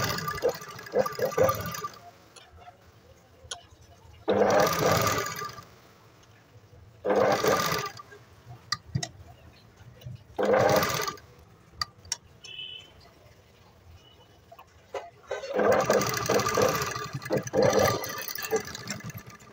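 A sewing machine stitches a round neckline in several short, separate bursts of rapid whirring, separated by quiet pauses, close by.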